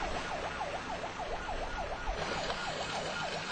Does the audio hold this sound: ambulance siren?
yes